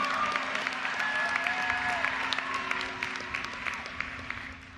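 Audience at a university commencement clapping steadily throughout, a dense sustained round of applause with faint crowd murmur and a tonal hum underneath.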